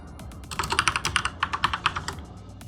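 Rapid, crisp keystrokes on a computer keyboard while entering a password, a close, steady burst of roughly twenty clicks over a couple of seconds with no voice.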